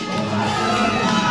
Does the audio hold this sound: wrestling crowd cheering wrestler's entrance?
yes